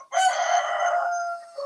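A rooster crows a single loud cock-a-doodle-doo. The call is close, clear and drawn out for more than a second, with no talking over it.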